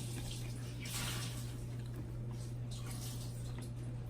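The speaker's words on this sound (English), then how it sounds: "Sorry for the faucet water noise." A kitchen faucet runs steadily nearby during breakfast preparation, giving a continuous hiss of water with faint splashing and a low steady hum beneath, with no talking.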